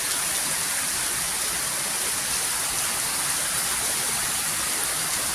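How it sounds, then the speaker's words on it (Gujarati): Heavy, steady downpour roaring without a break, a dense wash of rain noise with a windy hiss, loud and close throughout. "જો અહીંયા કેવો વરસાદ આવે, ધોધમાર વરસાદ ને પવન"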